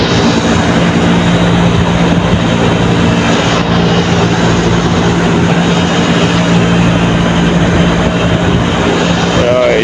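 An air conditioner unit's fan runs steadily during compressor troubleshooting, a loud, constant whooshing hum with a faint low drone beneath and brief mechanical ticks near the end.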